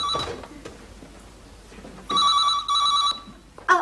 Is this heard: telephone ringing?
yes